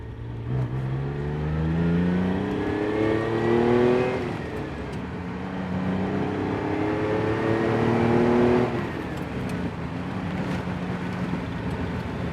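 A 1973 Dino 246 GTS sports car engine revs up twice in long rising sweeps, the pitch climbing and dropping back between pulls, steady and moderately loud with no talking.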